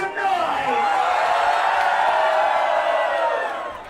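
A small crowd in a little bar venue cheers and whoops steadily, voices rising and overlapping in a dense, loud roar with shouted whoops throughout.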